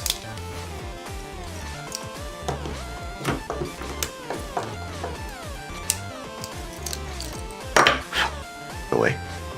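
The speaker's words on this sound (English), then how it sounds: "I take a tool and just scrape along the inside" Hard tool scraping along the inside of a plastic piece to remove residue, a series of short sharp scrapes and clicks at close range, irregular and separated by brief pauses.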